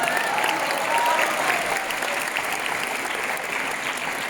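Audience applause at a film event, a steady, dense wash of clapping that holds at an even level for several seconds, with faint voices mixed in.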